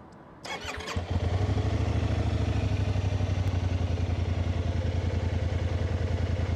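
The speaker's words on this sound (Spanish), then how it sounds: "la moto arranca muy bien. Este es el sonido que hace" A Kymco AK 550 maxi-scooter engine cranks briefly with a starter whir, catches, and settles into a steady, throbbing idle, close by and without talk.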